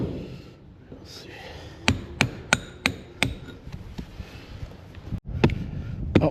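Old bolts being knocked out of a barn's timber framing with a hammer: about seven sharp metallic strikes in a steady rhythm, close and loud, with a few more hits near the end.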